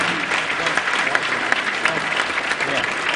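Diners at an induction ceremony dinner break into sustained applause, a dense roar of clapping from a large crowd, loud and steady throughout with voices mixed in.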